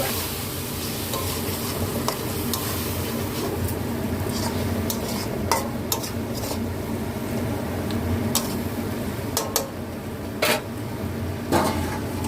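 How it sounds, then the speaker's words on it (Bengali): A spoon stirs curry in a pan just after water has been added, a steady bubbling simmer broken by scraping and clinking of utensil against metal, close and continuous with no talk. "এবার আমি একটু জল দিয়ে দিলাম, দিয়ে একটু নেড়ে আমি ঢাকা দিয়ে দেবো"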